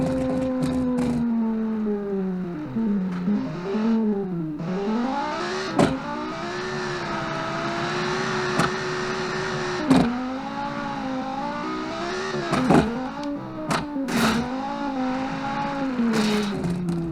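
A revving rally car engine in the video game Automation whines up and down through the gears, with sharp bursts and spinning-wheel surges, loud and close, no talking.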